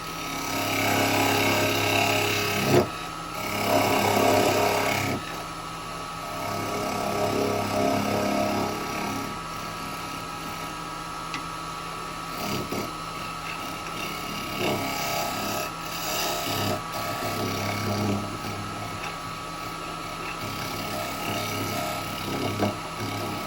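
A square carbide chisel cuts an Umbilo wood bowl spinning on a lathe, giving a steady rough scraping rasp over the constant lathe hum, close and continuous with a few brief breaks.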